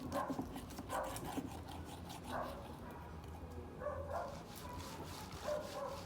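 A dog waiting for a piece of meat gives soft, repeated whimpers and short yips at a moderate distance, in short bursts over a low background hum.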